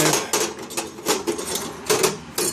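Metal tools, including a hammer, clank and rattle against each other in a toolbox, a series of irregular sharp knocks and jangles up close.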